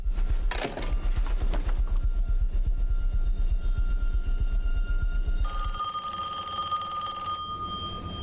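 A telephone rings loudly and continuously with a rapid rattling bell pulse for several seconds, then the ringing gives way to a steadier electronic tone near the end, with no voices.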